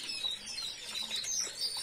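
Small caged songbirds in a tight cage, canaries of the Valenciana breed, chirping faintly with soft wing flutters, quiet and fairly close.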